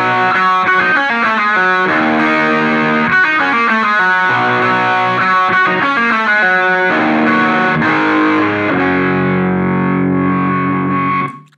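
A distorted electric guitar plays loud, sustained chords with a riff-like rhythm, ringing out and fading at the end. The tone is dense and saturated, with a chorus-like effects-unit sheen and no voice over it.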